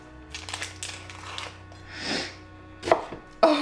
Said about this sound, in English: God, I hate cutting onions.